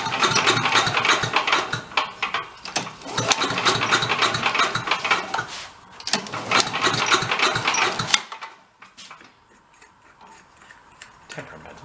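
A temperamental 8HP vacuum engine runs hard at full throttle, a loud rattling, ticking drone that surges and dips, then cuts out abruptly near the end, leaving faint ticks and quiet.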